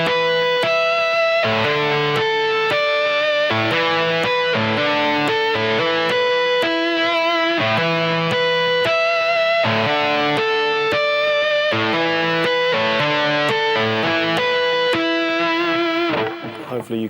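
Electric guitar tapping-harmonics lick, played slowly and distorted, with a steady series of bright chiming harmonic notes ringing over sustained tones until a brief fade at the end.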